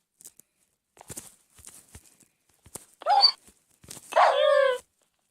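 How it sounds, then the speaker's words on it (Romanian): Dogs in the Minecraft video game barking in short repeated bursts, a couple of sharp yaps followed by a longer run of loud barks, with scattered game clicks and thuds between them. "ați văzut ce retardați câini"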